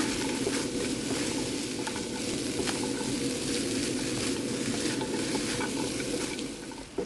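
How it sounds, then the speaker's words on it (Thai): Bean sprouts and garlic chives are stir-fried with radish cake in a hot pan, a loud continuous sizzle with the rustle and scrape of stirring that fades slightly at the end. "ผัดผัดให้ผักโดนความร้อนอีกสักหน่อยนะคะ"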